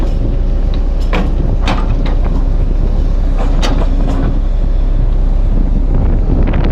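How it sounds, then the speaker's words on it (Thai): A strong wind buffets the microphone in cold weather at a rural excavation site in Udon Thani, Thailand, making a loud, constant roar with gusty bursts throughout. "ลมแรงมากเลยนะครับ ช่วงนี้อากาศหนาวครับ"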